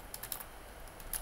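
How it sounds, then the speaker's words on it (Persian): A name being typed on a computer keyboard, a quick run of soft, close key clicks over a low room hum, with no speech. "روش اینجا دبل کلیک میکنم اومد و اسمم رو تایپ میکنم"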